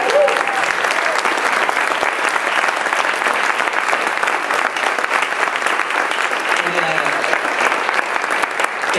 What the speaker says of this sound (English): Please, again, a round of applause for Josh.